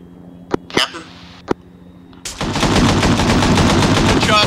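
Gunfire in the video game Half-Life: Badlands: a few sharp separate shots, then a loud sustained burst of rapid automatic fire, with voices heard briefly early on.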